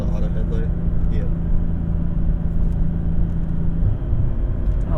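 A 2006 Lexus IS350 driving, its engine and exhaust giving a steady low rumble with a sustained droning tone inside the cabin, loud and continuous for several seconds.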